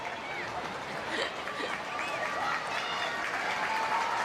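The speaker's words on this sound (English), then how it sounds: "A huge cheer from the home fans as she comes across and readies herself for a return to the fray." Home crowd at a women's Nations League football match between the Republic of Ireland and Türkiye cheers and applauds steadily, a dense, sustained wash of clapping and shouting throughout as a player returns to the pitch.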